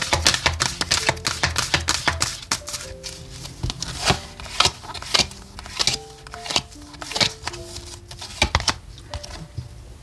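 Tarot oracle cards are shuffled and drawn in a rapid, close flurry of crisp papery flicks and taps, with a soft melodic background tune playing underneath.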